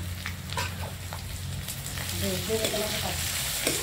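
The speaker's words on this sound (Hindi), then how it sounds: "तो इन सभी को हम चलाते हुए हल्का सा भून लेते हैं" Soft sizzling and frying of ginger, garlic and green chili paste with onions in a pan, with occasional stirring scrapes, a low continuous crackle throughout.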